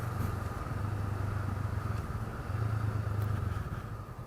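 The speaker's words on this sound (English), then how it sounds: "they managed to get a nice throaty sound out of this parallel twin" A Honda Rebel's parallel-twin engine idles with a steady low, throaty burble, fairly close and alone with no talk.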